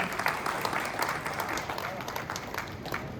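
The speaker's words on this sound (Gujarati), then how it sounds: "ફરીથી એમને એક વખત તાળીઓથી વધાવીએ" An audience at an honour ceremony for a natural-farming training programme claps to welcome a guest, a sustained patter of many hands at moderate loudness with voices mixed in.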